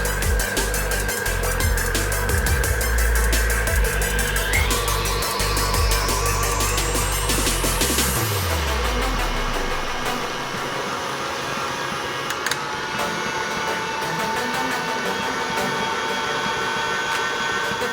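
Electric mixer beating thick chocolate frosting for cupcakes, a loud close motor whir whose pitch climbs as the speed is raised, then drops and settles into a steadier hum.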